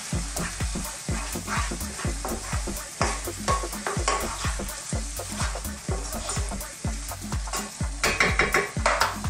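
Lemon sauce is stirred briskly in a pan as it bubbles: rapid rhythmic scraping strokes, one after another, over a steady sizzle, close up and without any talking.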